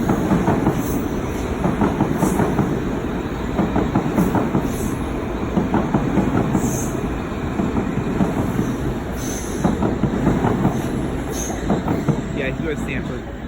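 A Metro-North M8 electric train rolls past a Park Avenue tunnel portal, steady rumbling wheel noise and rail clatter filling the whole stretch, with faint squeals on top.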